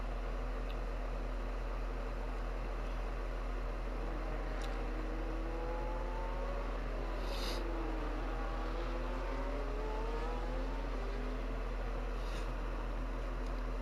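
A Williams Formula 1 car in the F1 24 game at Portimao, its engine drone rising and falling in pitch as it drives out of a corner, heard as a distant, steady whine under a constant low hum.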